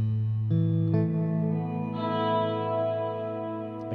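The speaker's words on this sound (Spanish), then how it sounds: "Aquí tenemos toda la señal reverberada." An electric guitar played through a Strymon Flint reverb pedal with the mix fully wet rings out in sustained notes and chords, each wash of reverb swelling and lingering as new notes enter. No one speaks.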